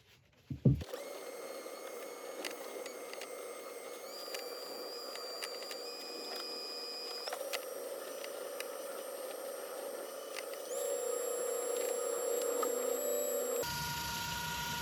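A wood lathe runs with a steady whine and hum while a turned oak hollow form is polished, starting slow and rising in speed, with a faint rubbing texture and no voices.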